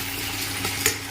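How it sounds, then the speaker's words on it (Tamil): Dried vaala fish goes into a frying pan with a soft sizzle and stirring scrape, a brief clatter of utensil against the pan near the end, close and moderately loud, no one talking. "கருவாடு போட்டுடலாம்."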